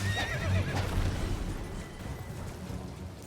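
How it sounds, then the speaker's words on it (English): A horse in the Elden Ring video game gives a loud, wavering neigh, mixed with hoof thuds and rumbling combat noise, close and continuous. "And then I come back and kill homie's horse."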